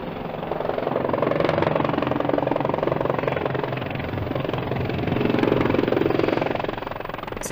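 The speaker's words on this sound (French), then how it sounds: "C'est un hélicoptère français" A French helicopter thunders close by in Beirut in 1982, its rotor chopping loud and steady for the whole stretch with a turbine whine, swelling and easing slightly.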